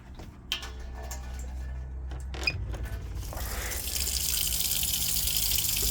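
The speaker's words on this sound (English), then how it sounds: "the cold tap to the cold." Cold water runs from a campervan tap fed by a water pump, a steady rushing hiss that swells and brightens near the end, with a few small clicks and knocks beforehand.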